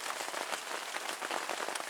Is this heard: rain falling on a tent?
yes